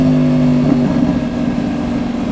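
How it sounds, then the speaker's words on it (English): A motorcycle engine drops through a downshift, its steady tone falling away into a rougher, blipping rumble, close and loud. "And cue the downshift."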